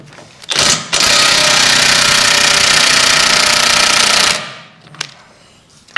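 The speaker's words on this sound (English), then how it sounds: "See what the old impact gun's like, eh? We're on DeWalt today" A DeWalt impact gun hammers at bolts on a hydraulic winch under repair, one loud, close, sustained rattling burst of about three seconds, followed by a few faint clicks and taps.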